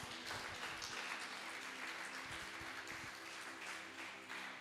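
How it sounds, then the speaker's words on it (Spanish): A church congregation claps for the Lord, steady, dense applause heard faintly from a distance with no voices standing out. "Dele un aplauso al Señor."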